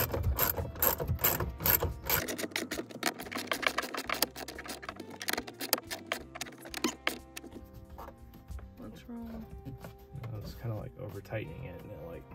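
A hand ratchet clicks in fast bursts tightening bolts while a Ford trailer brake controller is installed, close rapid pawl clatter that thins out into quieter handling noises.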